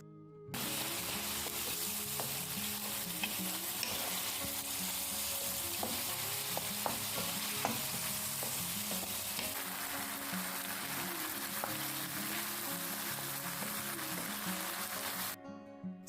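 Beef for shawarma frying in a pan gives a steady, close sizzle with crackling pops throughout, and occasional clinks of stirring, with no one talking.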